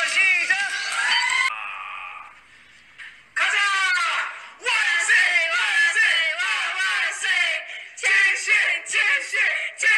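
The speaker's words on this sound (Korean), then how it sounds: "김희철 함성 3초만 시작!" A studio audience at a Korean variety show bursts into loud cheers and screams for Kim Heechul, in several rising waves of shrill crowd noise with brief lulls between.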